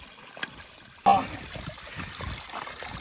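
Cold spring water trickles steadily in the countryside, a soft continuous dribble beneath voices talking nearby, with a brief louder splash-like onset partway through.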